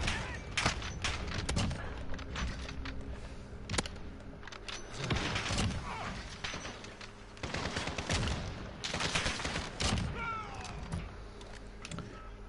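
AX50 sniper rifle fire in a shooter video game, a series of sharp separate shots spread over several seconds amid other gunfire, clattering movement and brief game voices.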